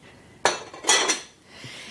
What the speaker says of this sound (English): So I have a couple of choices of baking dishes, and one of them is too big.